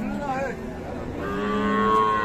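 A Sahiwal cow at the Raniganj cattle market in Dinajpur lets out a long, close, drawn-out moo over faint market background noise.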